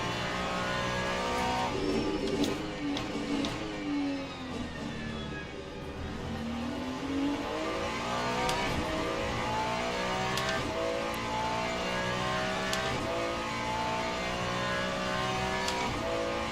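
Several race cars at Spa in the racing game Le Mans Ultimate, engines revving up and down through gear changes and braking, steady and continuous with passing cars.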